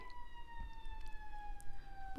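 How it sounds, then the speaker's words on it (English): An emergency vehicle siren sounds faint and distant, a thin steady wail over low background rumble. "There's a siren."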